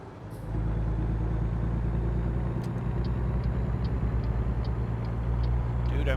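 Truck engine in American Truck Simulator driving fast on the highway, a loud, steady low drone after a short quiet opening, with faint regular ticking like a turn signal over the top.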